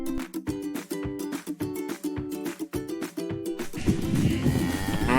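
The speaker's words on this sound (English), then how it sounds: "Cow," Cow mooing in a rapid series of short, loud, nearly identical calls, then a longer, rougher blended sound at the end.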